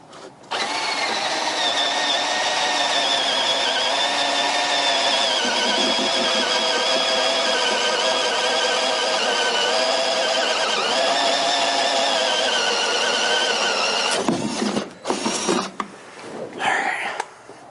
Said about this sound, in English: I'm using a 3/4 spade bit to drill the hole.